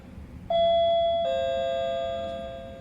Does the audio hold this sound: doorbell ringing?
yes